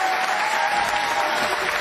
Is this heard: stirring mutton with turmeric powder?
no